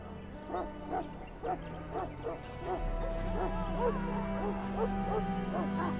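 A Mabari war dog from the video game Dragon Age: Origins gives a run of rhythmic barks and yips over a low droning game soundtrack, with speech faintly mixed in.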